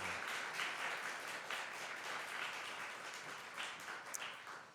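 A church congregation at a Christmas thanksgiving service claps to welcome a guest, faint and distant but steady, dense applause that carries on without a break.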